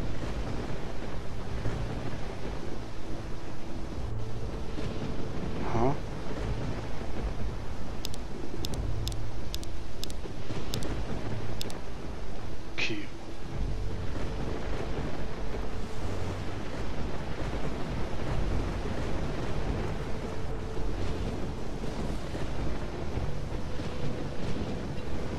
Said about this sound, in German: Tobt aber ein Sturm.